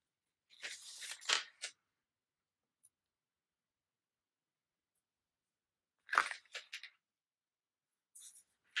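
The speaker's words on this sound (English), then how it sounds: "Go ahead and peel the paper off." Paper backing being peeled off sewing tape while making a mini tote: two short, faint crinkly tearing bursts separated by several seconds of near silence, with a brief rustle at the end.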